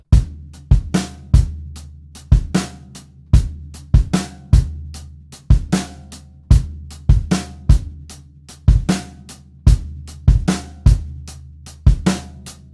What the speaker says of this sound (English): So tight hi-hats for 8th notes, bass and snare drum underneath.